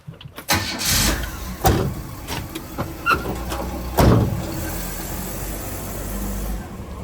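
A Chevrolet Camaro beater car cranks and fires up, then revs and drives off, its engine note rising and settling close to the microphone.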